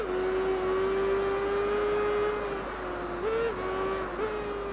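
A motorcycle engine holds a steady high drone while the bike pulls a wheelie on worn tyres on the final lap of a Tourist Trophy race, with brief pitch bumps near the end, close and continuous with no voices.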